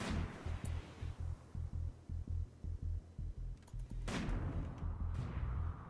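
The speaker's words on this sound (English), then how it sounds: "With the shots being fired somewhere." Rapid gunshots crack out in RimWorld, a repeating volley of sharp bursts over a steady low rumble, then a louder, denser blast of fire toward the end.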